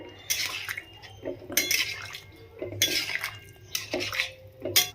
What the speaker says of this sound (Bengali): তোমরা যে যতটা ঝোল রাখতে চাইবে সেই হিসাবে জল দেবে।